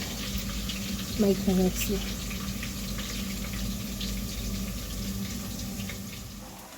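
Water runs from a tap and drains steadily in a kitchen sink, a soft continuous splash close by, with a brief clatter of dishes and someone speaking over it.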